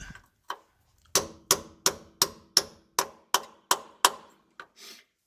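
A run of sharp metallic hammer blows, about nine strikes in a steady rhythm, close and loud in the tight space under a third-generation Toyota 4Runner while fitting rear differential armor, with a couple of lighter taps before.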